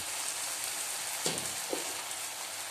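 Spices frying with garlic paste, salt, turmeric and tomato puree in a pan, a steady soft sizzle with a couple of faint stirring scrapes, low and continuous.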